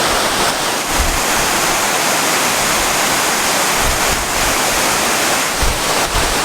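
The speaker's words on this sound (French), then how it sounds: "là on est sous la cascade de El Chiflón ou Nelo de Novia" El Chiflón, a 120-metre waterfall in Chiapas, roars loud and close from directly beneath, a dense unbroken wash of falling water with gusting spray and wind, with no voices.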